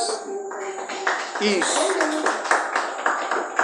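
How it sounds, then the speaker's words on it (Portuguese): A church congregation claps together in a steady rhythm, loud and close, with a voice speaking briefly over the applause. "Palmas para Jesus."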